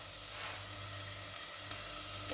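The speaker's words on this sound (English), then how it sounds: "So you want to fry this off so the mince is nearly like a sort of breadcrumb texture." Beef mince sizzling in a hot pan with garlic, a steady close crackle and hiss with faint scrapes of stirring, no talk.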